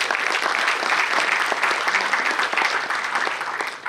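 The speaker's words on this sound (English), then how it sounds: "Yes, I know you clapped because maybe we got money from there." An audience claps throughout a technology masterclass hall, a dense, steady round of applause heard up close for a few seconds.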